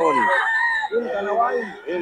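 Bull stag roosters crow close by at a busy market, with several overlapping calls in quick succession and voices talking underneath.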